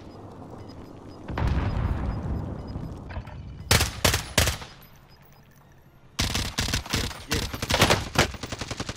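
Bursts of automatic gunfire from a new gun in a battle royale video game, loud and close, come in two clusters of rapid shots separated by a quieter stretch, with a rumbling lead-in.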